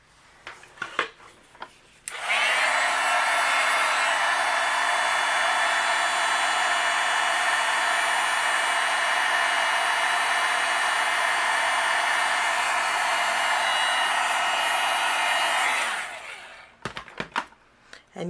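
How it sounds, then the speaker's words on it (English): A heat gun blows steadily to melt gold embossing powder, starting abruptly after a few faint handling noises and running as a loud, even whoosh for about thirteen seconds before cutting off. "I'll use my heat gun and we'll melt this."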